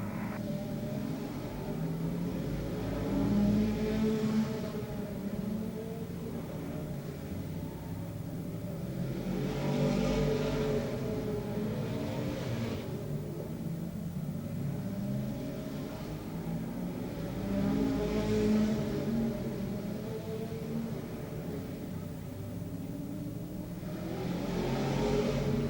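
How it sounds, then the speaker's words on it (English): Stock cars racing at Rockford Speedway in 1981, engines droning continuously as the field circles, rising in repeated revving swells every few seconds as cars pass nearby, loud and alone without talk. "Al Schill in 114 continues to lead. Tony Hurtgo in the 56 car holding on to second."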